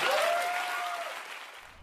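Studio audience applauding steadily in a news broadcast setting, a dense wash of clapping that starts strong and gradually fades over about two seconds, with no talk.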